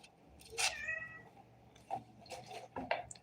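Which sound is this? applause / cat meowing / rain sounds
cat meowing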